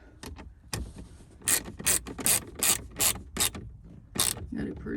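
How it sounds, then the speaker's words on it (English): A 7mm ratchet clicks in quick bursts while tightening dash bolts inside a 2014 Ford Super Duty XL, close and fairly quiet, with repeated short rasping pulls and pauses. "get your 7mm and tighten these screws, these bolts up, so your dash doesn't go"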